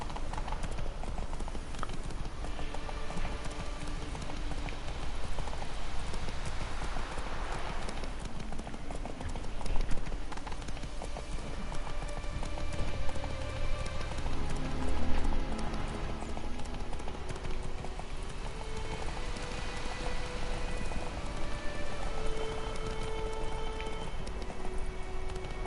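Horse hooves clip-clop at a gallop in The Witcher 3, a steady rapid drumming throughout under a hiss like rain, with no one talking.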